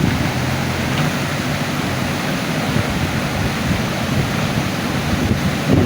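Rainwater rushing after heavy rain, a steady, loud broadband wash of flowing water that continues without a break and without voices.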